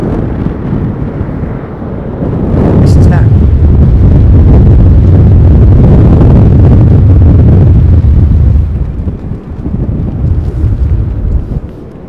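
A large jet makes a low overhead arrival at London Heathrow, its roar building to a long, loud rumble with heavy buffeting downwash over the microphone before it slowly fades.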